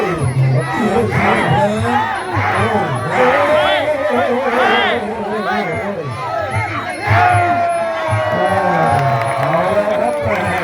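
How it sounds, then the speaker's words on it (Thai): A crowd cheers at a Muay Thai bout. Many voices chant and shout loudly in surging rhythmic waves, close and continuous, with a swelling roar near the end. "เสียงเชียร์"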